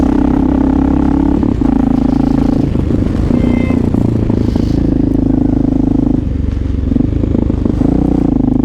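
A Honda XR650L motorcycle with a loud aftermarket exhaust rides through snowy New York City streets from the Lower East Side to 3rd Ave. Its close, steady single-cylinder drone has small shifts in pitch, with faint traffic clatter around it.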